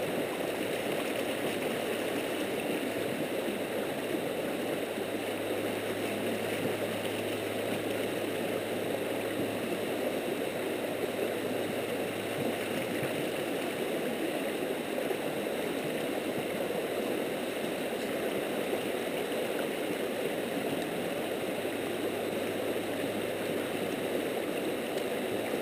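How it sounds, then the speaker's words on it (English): Gravel is panned for gold in a pan of water, a continuous swishing, gurgling slosh that runs steadily and fairly close throughout. "Okay, so let's pan some of this out"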